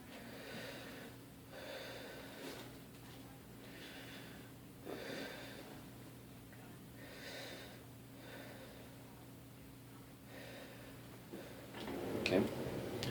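A person takes slow, deep breaths, each inhale and exhale a soft airy rush repeating roughly every two to three seconds against a steady electrical hum, with a brief rustle near the end.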